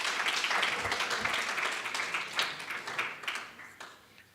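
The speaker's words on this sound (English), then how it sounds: "May I request that we give Prof another round of applause" Audience applause at a university public health division launch, a dense wash of clapping at moderate distance that holds steady and then slowly thins out.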